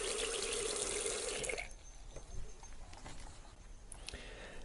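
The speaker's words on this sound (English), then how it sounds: "with running water." Water runs from a tap into a sink bowl in a jungle house, a loud rushing stream for about a second and a half, then stopping and leaving faint drips and quiet background sounds.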